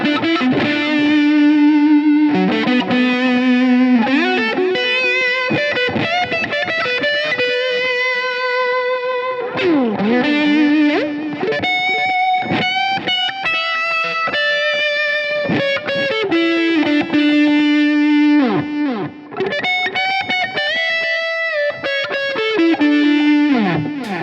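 A distorted electric guitar through a Line 6 Helix plays a sustained lead line, notes ringing long with heavy reverb and delay trailing behind, loud and continuous.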